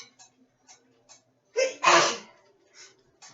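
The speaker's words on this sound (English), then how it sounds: "sneezing" A single loud sneeze bursts out close by, with a sharp intake of breath just before it, amid quiet clicks and small sounds.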